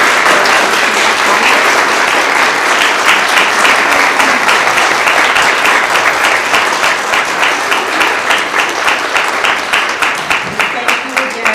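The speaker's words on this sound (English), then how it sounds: "So please join me in a warm round of applause." Sustained applause from an audience at a panel event on Black women in electoral politics, many hands clapping in a dense, steady wash that stays loud throughout and begins to thin toward the end.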